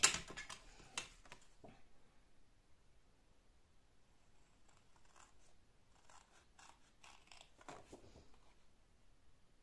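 Scissors cutting paper for a small candy box, a quick run of crisp close snips at the start, then quieter scattered cuts and a few more sharp snips later.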